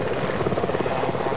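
A mountain rescue helicopter in the Scottish hills gives a steady, close rotor drone with rapid rhythmic chopping throughout a short stretch.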